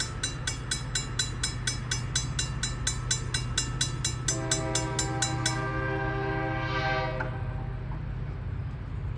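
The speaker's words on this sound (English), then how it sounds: "Oh, there's the train." Train passing through a downtown Williamsburg grade crossing, its horn sounding in a long series of loud, evenly spaced blasts over a steady low rumble, then a sustained horn tone near the end.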